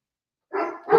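A dog gives two quick barks in close succession, loud and near, starting after a moment of silence.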